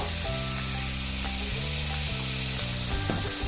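Vegetables for a pizza sizzle and steam in a kadai. The hiss is steady and continuous at close range, with a constant tone and a faint clatter near the end.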